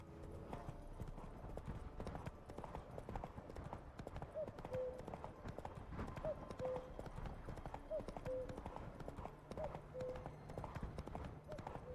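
Roach the horse galloping in The Witcher 3, a quiet steady drum of hooves with faint clip-clop beats under a continuous wash of game background sound.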